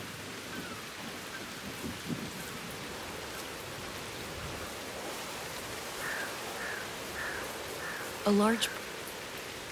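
Steady heavy storm rain pours outside a cave in the adventure game Whispers of a Machine, with low rumbling beneath the hiss, a voice speaking over it and a brief louder effect near the end.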